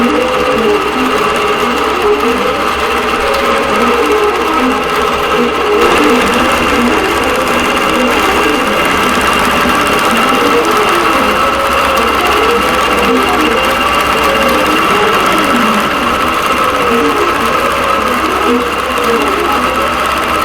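A quilting machine stitches a quilt on its frame, humming loudly and steadily with a regular rising and falling whir as the head moves, unbroken throughout.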